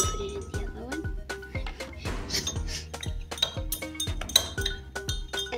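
A spoon clinks and taps repeatedly against a glass of colored water in a flower color-changing experiment, bright close ringing strikes in an irregular rhythm with light handling noise between them.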